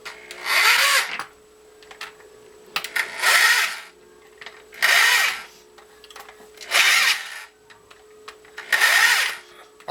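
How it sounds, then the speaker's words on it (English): A power drill drives screws as studs into a mountain bike tire for ice and snow, in five evenly spaced whirring bursts about two seconds apart, close and clear, with near silence between them. "now I am just about done finishing up screwing all these screws in"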